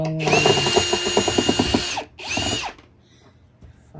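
A power drill whirs in repeated bursts as it backs screws out of a Eureka AirSpeed vacuum, revving with a ratcheting rattle for about two seconds, then a shorter burst, followed by quiet handling.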